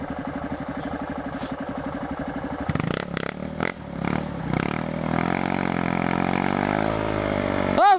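A trail motorcycle on a dirt trail in Mata do Jacaré idles with a steady thumping beat, then clatters and scrapes as it skids, and the engine revs up and strains under load.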